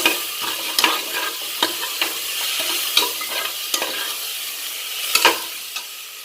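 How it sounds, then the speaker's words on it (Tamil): Cumin powder being stirred into a mutton pepper soup base crackles with a close, even sizzle, while spatula scrapes land roughly once a second and one louder clatter near the end stands out. "சீரகத்தூள் கொஞ்சம் போட்டு லைட்டாக கிண்டி விட்டுட்டு"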